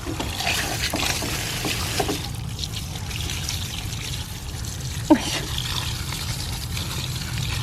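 Water trickles and splashes steadily from a hose, a continuous low rush with a brief knock partway through.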